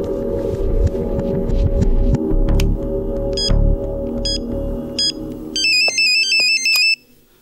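A phone ringtone chirps in short electronic bursts, at first under a busy, rumbling background, then alone and clear as the noise drops away.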